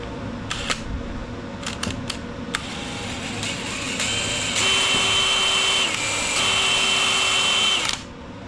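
A power drill whirs in short bursts, then grinds steadily for several seconds as the bit bores through metal on a Craftsman T1000 riding mower, close and loud before stopping.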